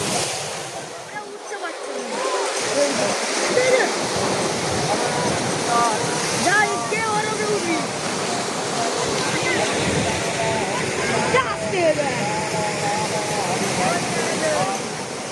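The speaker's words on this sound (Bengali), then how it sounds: "সমুদ্রে খুব উত্তাল, পরপর ঢেউগুলো এদিকে আসছে" Rough sea surf at Gangasagar gives a continuous roar of breaking waves, loud and broadband throughout, with a crowd murmuring underneath and voices faintly audible in the mix.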